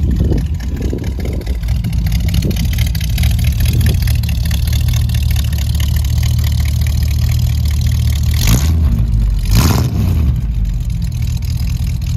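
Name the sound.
1965 Buick Riviera engine idling and revving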